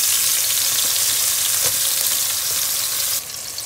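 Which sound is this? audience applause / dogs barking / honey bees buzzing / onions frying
onions frying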